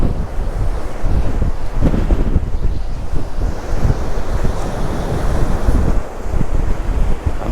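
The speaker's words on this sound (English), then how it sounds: "So there's some big waves coming in." Big waves crash onto a tiny beach at Santa Ponsa, Mallorca, in strong wind, with constant surf roar and heavy gusts buffeting the microphone and no voices.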